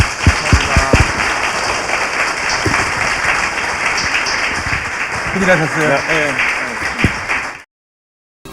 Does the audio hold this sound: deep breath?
no